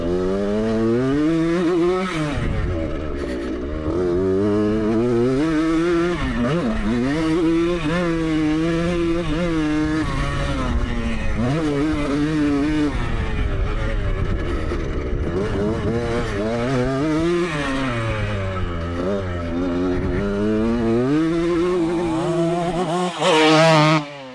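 A 50-year-old iconic dirt bike engine revs close by on a test track, pitch repeatedly climbing and dropping as it runs up through the gears with a buzzy, raspy tone.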